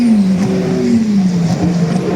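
A race car at the 24 Hours of Spa-Francorchamps screams past close by on the straight just before the braking zone. The loud engine note falls steadily as it goes by, with no talking.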